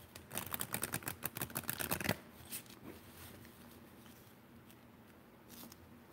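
A deck of playing cards is shuffled close up in a quick riffle of rapid fluttering snaps lasting about two seconds, followed by a few softer handling clicks and quiet rustles.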